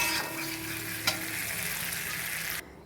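Fried spiny gourd sizzles steadily in a pan, a close even crackle with a single clink of a utensil midway, cutting off abruptly near the end.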